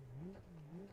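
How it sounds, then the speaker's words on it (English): A boxer engine revs in the BeamNG driving game, a steady mid-pitched drone rising and falling briefly, loud and alone with no talk. "Boxer engine. That sounds good."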